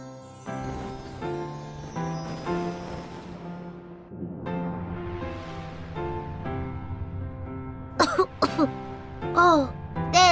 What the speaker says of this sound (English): Yes, you're coughing because of the smoke.